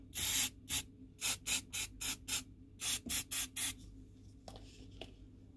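Aerosol spray paint applied to plastic model railway parts, heard as about a dozen short hissing bursts of varying length, fairly close, with a quieter rattle and rustle at the end.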